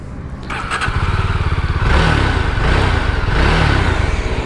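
A Yezdi Scrambler motorcycle engine fires up and settles into a throbbing, pulsing idle. It then revs up as the bike pulls away, loud and close, with no voices over it.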